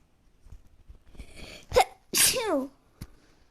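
A single sharp sneeze bursts out close by, followed by a brief nasal exhale and a faint sniff; otherwise quiet.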